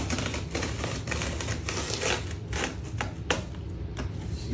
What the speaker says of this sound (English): Find the knife, cut the side seam.